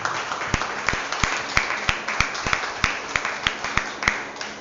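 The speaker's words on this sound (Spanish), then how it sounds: "Denle un fuerte aplauso al Señor." A church congregation claps together in a steady, even rhythm, with about three claps per second, forming a loud and continuous beat of unison applause throughout.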